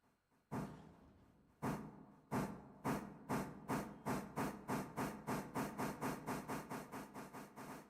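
Steam locomotive in the Railroader train game, loud rhythmic chuffing exhaust bursts that start slow and speed up into a steady rapid beat, with a continuous hiss between puffs and no talk.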